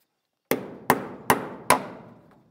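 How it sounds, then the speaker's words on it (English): Four sharp, evenly spaced hammer blows drive nails into a wooden truss, each strike ringing loud and close before fading, with no talking. "So we can either screw it off, which I might have to do a little bit of screwing, or we can pound in some nails."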